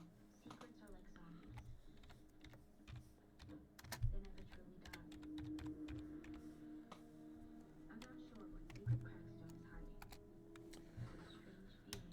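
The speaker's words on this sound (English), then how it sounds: "Click enter before Mitch stands on my keyboard" Rapid typing on a computer keyboard during a gaming session, with quick, uneven key clicks and a few heavier strikes, heard close against a low, steady background with faint voices.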